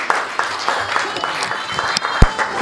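Applause from a gala charity dinner audience at the London Hilton, Holland Park, steady scattered clapping filling the room at moderate volume with a few sharper individual claps standing out.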